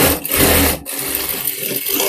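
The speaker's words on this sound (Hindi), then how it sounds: "मैं इसमें डबल सिलाई लगा रही हूँ पट्टी में।" A sewing machine runs a double line of stitching along the strip of a shoulder-dart belt blouse, a loud, steady whir that breaks off briefly and then starts again, with no talking.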